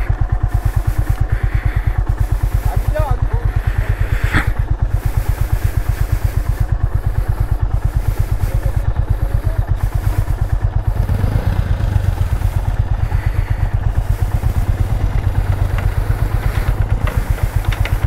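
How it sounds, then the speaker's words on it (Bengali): A motorcycle rolls slowly across a narrow, swaying bamboo bridge at Khirai near Kolaghat, its engine thrumming steadily and close throughout, with faint clattering of the bamboo slats underneath. "সরু বাঁশের ব্রিজে প্রথমবারের মতো বাইক নিয়ে যাবো"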